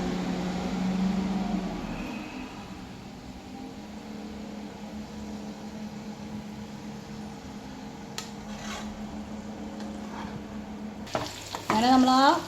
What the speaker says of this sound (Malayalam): നമ്മൾ ആ നെയ്യിലും ഓയിലിലേക്കും സൺഫ്ലവർ ഓയിലിലേക്കും നമ്മൾ കശുവണ്ടി വറുക്കാൻ വേണ്ടി ഇട്ടിട്ടുണ്ട്.